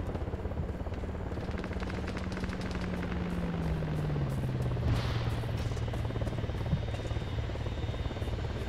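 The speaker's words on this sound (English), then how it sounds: "Get on the helo." A helicopter in the video game Arma 3 gives a loud, continuous rotor drone with a low engine tone that dips in pitch midway, and faint gunfire-like pops are mixed in.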